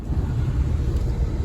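Car engine idling outdoors at an auto auction lot, a steady low rumble holding evenly throughout with no voices.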